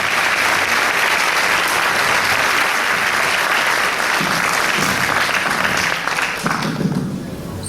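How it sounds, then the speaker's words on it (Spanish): Enthusiastic applause for young harp performers taking the stage at a Paraguayan harp day concert, a loud, dense roar of clapping from a large crowd that holds steady before easing off near the end. "Son esos aplausos para Francisco, Jaycee, Luis, Claudia e Iván."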